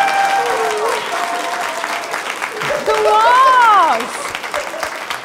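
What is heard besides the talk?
audience applause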